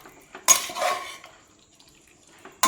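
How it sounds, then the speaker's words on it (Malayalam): Metal spoon scraping and clanking against a pressure cooker of chicken curry, a few loud stirring strokes with short clattering bursts separated by quieter pauses. "നന്നായിട്ട് ഒന്നും കൂടി ഒന്ന് ഇളക്കി കൊടുക്കാം."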